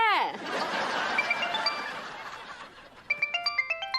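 A phone rings for an incoming video call in a Hindi TV comedy scene, a clear repeating electronic ringtone pulsing near the end after a stretch of chuckling and voices.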